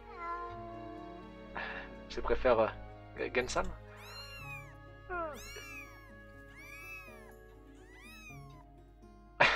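Cats in the visual novel game Rewrite meow several times in clear, rising and falling calls, close and distinct. A voice speaks before the meows and again briefly near the end.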